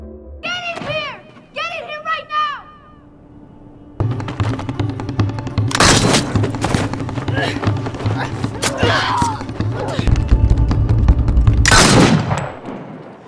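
Gunfire erupts during an attack scene in a film: after a few seconds of voices, a dense stretch of loud, sharp shots and impacts follows, with several heavy bursts standing out over rumbling background noise.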